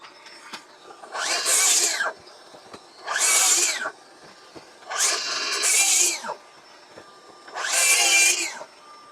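A Flex 24V FX5231 cordless jobsite vacuum switches on and off four times. Each run is a loud whooshing motor whine lasting about a second and a half that rises and falls in pitch, with quiet gaps between them.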